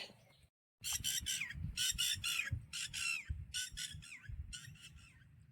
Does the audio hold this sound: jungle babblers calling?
yes